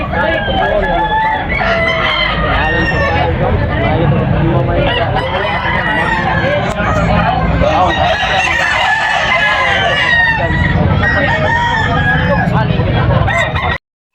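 A rooster crows repeatedly amid a busy yard of clucking fowl at a rural sale, loud and close, with overlapping calls throughout.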